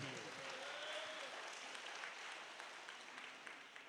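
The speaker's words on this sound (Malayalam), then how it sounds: "കൈയടിച്ച് ദൈവത്തെ മഹത്വപ്പെടുത്തിയേ." A church congregation applauds in praise of God during a healing testimony, a steady wash of clapping that stays fairly even and moderately loud throughout, with a faint voice underneath.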